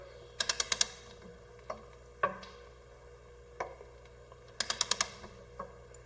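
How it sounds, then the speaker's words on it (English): Ratcheting clicks from torquing a hardware store nut down on an engine head stud during machine shop testing: quick bursts of four or five sharp ticks, then single clicks, a second burst near the end, close and clear, no talk. "what we're going to do here is just torque down this hardware store nut and see if it gives"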